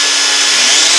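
A power sander whines loudly and steadily on a painted hickory vanity, a close, continuous high-pitched motor roar for about a second.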